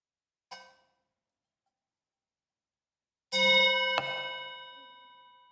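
A chime rings twice: a brief soft strike, a pause, then a louder bright ring with a second stroke, its clear tones sustaining and slowly fading in an otherwise silent space.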